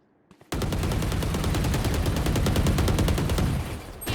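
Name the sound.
gunfire while running sideways in a shooter video game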